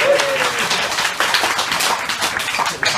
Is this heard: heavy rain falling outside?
no